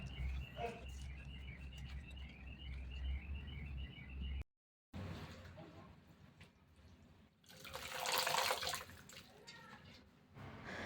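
Water sloshes and splashes as coriander leaves are rinsed, swelling into a louder burst of running water, with birds chirping in the background.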